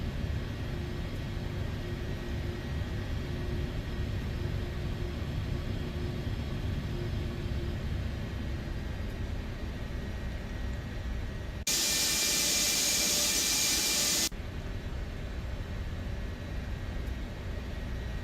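A Gulfstream 550 business jet taxis in X-Plane 12 with a steady low engine rumble and whine throughout, a harsh broadband burst cutting in for a few seconds toward the end.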